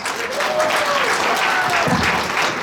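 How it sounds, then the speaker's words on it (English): Steady, loud applause from a large crowd at a women's day celebration in Chicago fills the space, a continuous wash of clapping with no break. "give yourselves a big round of applause"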